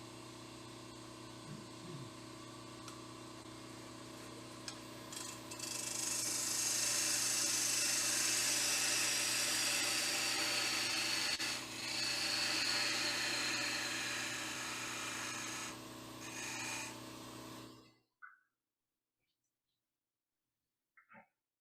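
A wood lathe cutting a hollow spiral finial: a steady spinning drone rises into a loud, bright, sustained cutting whine for about twelve seconds, briefly dips midway, then cuts out into near silence.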